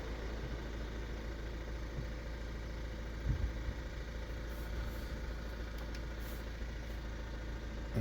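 A Volvo XC60 Inscription B4 diesel AWD idles steadily with a low, even engine hum, close and unchanging, with no talk over it.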